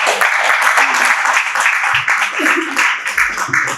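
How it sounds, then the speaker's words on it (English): Audience at an anniversary event applauds: steady, close, full clapping throughout, with a voice talking over it. "A round of applause once again for Total of Leadway."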